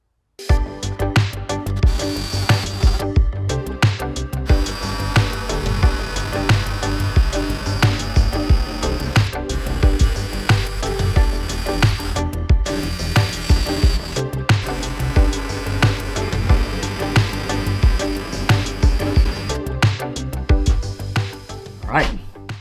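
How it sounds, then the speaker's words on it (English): A power drill boring a series of holes into a car's glove box during a repair, whirring loudly and steadily close up, with short gaps between holes and a few brief pauses. "I think I'm going to go through and just drill all the holes"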